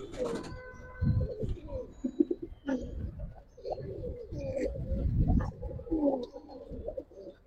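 Pigeons, fancy Giribaz tumblers, coo in a low, repeated murmur, with soft wing flutters and handling noises mixed in close by.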